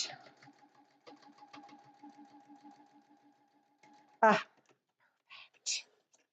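A sewing machine hums and stitches a mug rug in a steady, quiet whir for several seconds, then stops, followed by a few short clicks and handling noises.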